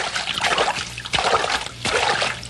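Water splashes and sloshes in bursts as someone goes into a pool during a swimming lesson, close and choppy.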